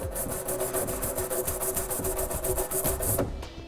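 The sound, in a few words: nylon tube brush scrubbing out trailer hitch mounting holes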